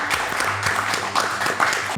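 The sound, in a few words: audience applause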